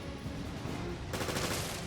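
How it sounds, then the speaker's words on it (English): Rapid gunfire from an auto-reload weapon in Resident Evil Revelations Raid mode: a dense, continuous stream of shots that grows brighter and harsher partway through, steady and unbroken, with no voices. "Now, we use the auto-reload weapon to take out everyone."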